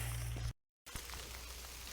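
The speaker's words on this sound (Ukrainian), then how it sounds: "Трохи дощ розійшовся, вже весь промок трошки" Rain patters steadily on leaves and ground in a wet forest during mushroom picking, a constant close hiss with a few distinct drips, briefly cut to silence midway, no talking.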